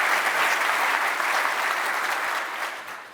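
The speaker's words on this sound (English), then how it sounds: "I think that needs a round of applause." An audience at a Danish supercomputer celebration breaks into loud, sustained clapping that holds strong and then begins to taper off toward the end.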